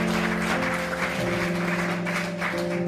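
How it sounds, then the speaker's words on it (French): Audience applause at a French-language gathering, continuous and fairly loud, layered over sustained music tones. "Applaudissez aussi très fort."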